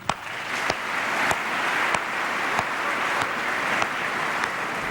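Applause from lawmakers during Modi's address to the US Congress, a sustained, even roar of clapping from a large chamber, heard at a moderate level and fairly distant.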